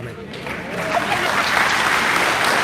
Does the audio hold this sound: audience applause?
yes